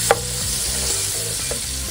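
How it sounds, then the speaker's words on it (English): Chopped onions sauté in hot bacon grease in a pan, giving a steady loud sizzle and crackle with a few sharp stirring scrapes. No one speaks. "So you wanna saute the onions until they're translucent."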